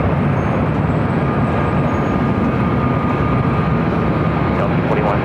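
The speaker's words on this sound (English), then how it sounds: "Up next is an Air France A350 coming in from Paris." Air France A350 airliner arriving from Paris at LAX, a loud continuous broadband jet roar that holds steady throughout, close and dominant, with faint voice traces mixed in.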